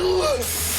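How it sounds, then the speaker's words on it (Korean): A self-defense spray fires in one short, sharp burst of hiss lasting under a second, close and loud, just after a brief whistling tone. "호신용 스프레이로 남자를 제압하는 올리비아."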